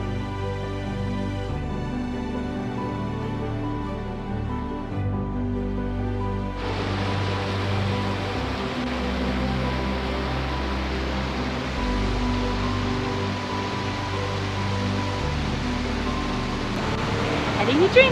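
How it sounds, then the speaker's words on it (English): Steady, dense rush of a fast-flowing stream in Rocky Mountain National Park, loud and continuous, swelling suddenly partway through and holding at that level to the end. "you can hear it. Really fast flowing water."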